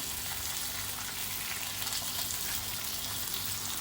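Slices of brinjal and potato fry in oil on a flat tawa with a dense, even sizzle that crackles steadily at moderate loudness throughout, no voices.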